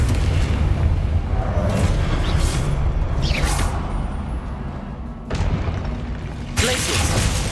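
Confringo blasting spell in Hogwarts Legacy sets off booming explosions, a dense rumbling impact mid-clip followed by fresh blasts near the end, loud and close over continuous battle noise.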